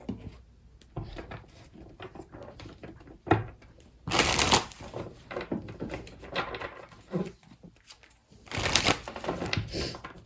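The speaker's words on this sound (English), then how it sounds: "Okay, so let's pull your tarot cards." Tarot cards are shuffled by hand in quick riffling bursts, two louder runs around the middle and near the end, with softer card handling and taps in between and no talking.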